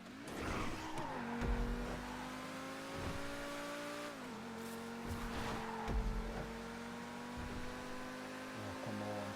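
A T20 supercar in GTA V sweeps fast through a corner, its engine note holding a steady high drone that dips and climbs as it shifts, with tire squeal and skidding bursts throughout, loud and continuous.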